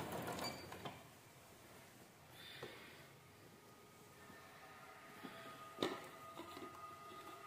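A sewing machine stitches gathers on a baby frock, running in short, faint mechanical bursts separated by pauses and quiet handling sounds.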